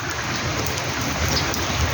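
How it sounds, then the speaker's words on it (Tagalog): Steady rain falling and pattering on surfaces outside a building lobby, a dense continuous hiss at a constant level with no voices. "Umuulan."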